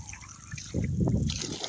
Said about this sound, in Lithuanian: Naujai pripilsiu vandens, jau visa bala didžiausia